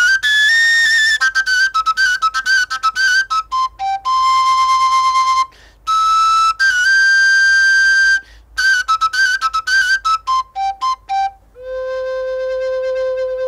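A Hutsul bzina folk pipe plays a lively, bright, whistle-like melody of quick, clipped notes with a few longer held tones, loud and close with no voices.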